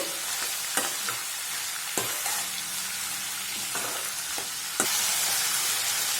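Broad beans fry and are stirred in hot oil, a steady close sizzle with sharp spatula scrapes and clicks against the pan at irregular intervals.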